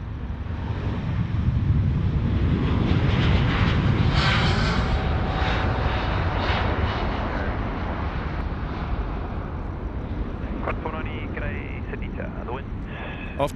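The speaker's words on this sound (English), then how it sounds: "China Eastern rolling past us now." A China Eastern airliner taxis past at Sydney Airport at night, a loud broad engine roar that swells and slowly fades, with a brief radio voice and clicks near the end.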